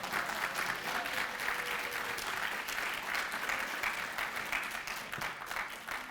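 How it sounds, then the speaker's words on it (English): Graduates standing at a master's hooding ceremony applaud themselves, a large crowd clapping warmly and continuously in a big hall, moderately loud and unbroken. "Give yourselves a warm round of applause."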